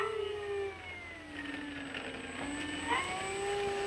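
An FMS F4U Corsair 1700mm RC model airplane taxis, its motor giving a steady, close, high whine whose pitch dips, then climbs and slides through the clip.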